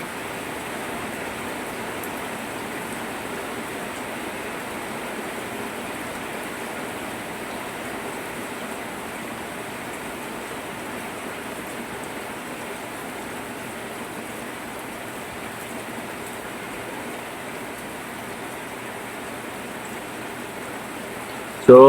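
Steady, dense hiss of heavy rainfall pours without pause, even and continuous throughout.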